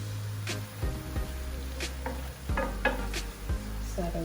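Fresh spinach is stirred into a hot pan of creamy garlic Tuscan shrimp sauce, with a steady sizzle broken by scraping and clacking utensil strokes against the pan.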